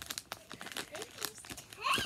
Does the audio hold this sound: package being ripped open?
yes